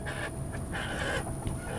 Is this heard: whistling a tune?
no